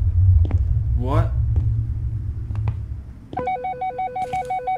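A telephone rings in the horror game Midnight Shift (Remake), a regular electronic trill that begins partway in and repeats in steady pulses, following low rumble, footsteps and a brief voice earlier on.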